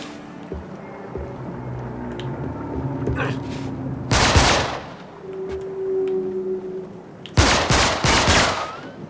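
Gunfire in Uncharted 3: Drake's Deception: two loud, rapid automatic bursts over a low rumbling game backdrop, with quieter scattered shots between them.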